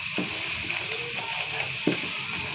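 Turnip pieces dropped into hot ghee set off a steady close sizzle and frying hiss, with a couple of soft stirring or scraping knocks through it and no talk.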